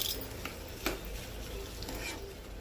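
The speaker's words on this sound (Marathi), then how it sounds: "आता आपण उकडलेला बटाटा टाकून घेऊया आणि वरतून कोथिंबीर चांगलं मिक्सअप करून घेऊया" Boiled potato and fresh coriander being stirred into a Frankie roll filling in a pan, soft scraping and patting of a spoon with light sizzling underneath, close and quiet.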